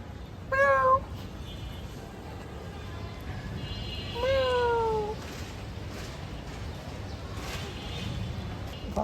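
Cats meow loudly up close, two distinct drawn-out calls a few seconds apart, the second with a falling pitch, over a quiet outdoor background with faint distant sounds as rain begins.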